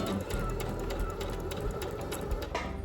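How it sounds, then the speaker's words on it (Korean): A sewing machine stitches a short seam with a backstitch on a drape boat-neck dolman top, its steady close mechanical whir running continuously throughout. "재봉틀로 딱 이만큼만 봉제해줄게요."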